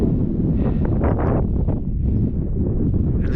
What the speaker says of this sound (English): there's nothing to stop the wind